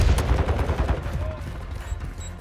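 Gunfire in the video game Call of Duty Modern Warfare 2 during a PC multiplayer match: a dense, continuous rattle of automatic shots and overlapping fire, loud and close, with battle noise throughout.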